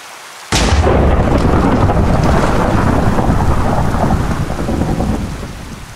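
A Minecraft thunderstorm breaks with a sudden loud thunderclap, and heavy rain then pours steadily, slowly fading toward the end.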